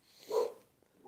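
A dog barks once, fairly loud, out across a valley, with a softer bark starting near the end; the barks carry a slight open-air echo.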